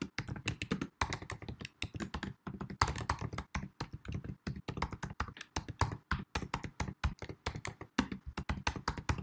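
Rapid typing on a Mac keyboard while entering a Terminal command, with a steady run of crisp, close key clicks and taps throughout and no talking.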